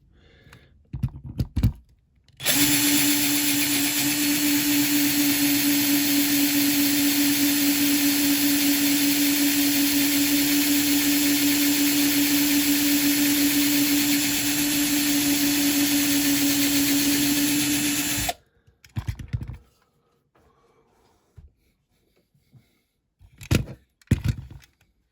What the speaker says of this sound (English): Drilled into the post, but it ain't budging though.